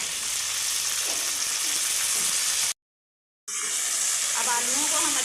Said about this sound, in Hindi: अब आलूओं को हम अच्छे से पहले भूनेंगे।